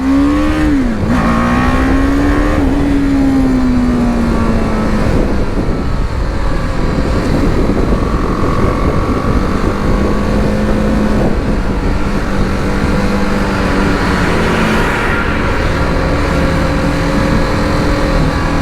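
A 2020 BMW G310GS adventure motorcycle being ridden, its engine droning loudly and continuously with shifting pitch as it accelerates and eases off, mixed with steady wind rush.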